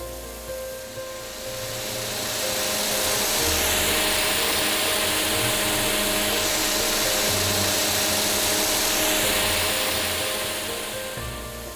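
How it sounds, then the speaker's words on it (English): Snow gun at a ski area firing up to produce snow after its ice is cleared and gasket replaced, a loud broadband hissing roar that swells in and holds steady over a low mechanical hum. "the gun begins producing snow"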